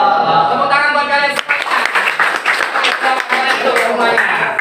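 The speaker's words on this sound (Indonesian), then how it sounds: "Tepuk tangan buat kalian" A classroom group claps together after an icebreaker activity, a burst of lively, uneven clapping under loud children's chatter and cheering close by.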